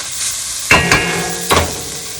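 Vegetables from a can being stirred in a pan of salmon pesto pasta. A spoon scrapes and clinks against the pan in two or three distinct strokes over a steady, close sizzle.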